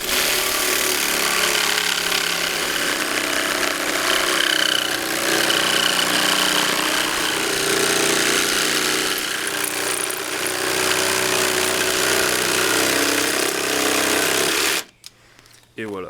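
A jigsaw cutting a line buzzes continuously at a loud, even pitch with slight wavering, then stops abruptly near the end; the jigsaw is one attachment of a multi-tool that also drills, drives screws and sands.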